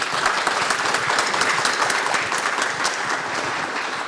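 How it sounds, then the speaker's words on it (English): An audience at a conference on AI and data privacy applauds a panel, with sustained, fairly loud clapping that fills the whole stretch and fades slightly toward the end. "let's have a round of applause for this great panel"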